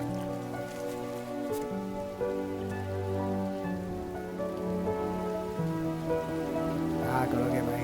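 Steady rain pours down in a dense hiss, with a low tonal hum and sustained notes running through it the whole time.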